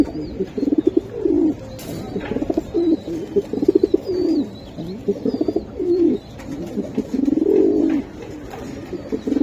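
Racing pigeons coo up close in a loft: repeated soft, throaty rolling coos that overlap in a steady, rhythmic chorus. A few faint chirps sound in the background.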